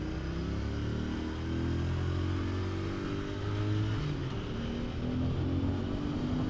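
A Royal Enfield Interceptor 650 twin-cylinder engine drones steadily at cruising speed, its pitch rising and dipping slightly as the throttle changes, with no talking.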